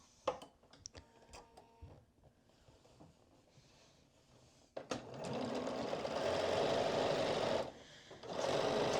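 A sewing machine stitches up the straight edge of a vest seam, a quiet start of scattered clicks giving way to a loud, steady motor run with a brief pause near the end before it resumes.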